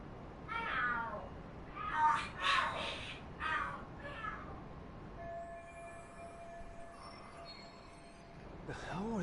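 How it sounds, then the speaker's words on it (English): Cats yowl and screech in a fight in the video game Lost Judgment, several rising, warbling cries in quick succession. A steadier tonal hum follows, then another screech near the end, all fairly faint. "The hell? Are there cats fighting?"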